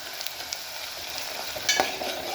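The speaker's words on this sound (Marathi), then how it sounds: "कांदा मी फोडणीमध्ये टाकलेला आहे, तर याच्यामध्येच आपल्याला आलं लसूणची पेस्टही टाकून घ्यायची आहे" Onion frying in a tempering with ginger-garlic paste sizzles steadily while being stirred, a continuous close hiss with a few scraping clinks of the spoon, no voices.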